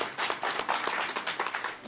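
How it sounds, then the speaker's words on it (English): An audience bursts into brief applause for a speaker at an agriculture and climate panel, a dense, close patter of many hands clapping that swells and then tapers off. "you can give her a round of applause"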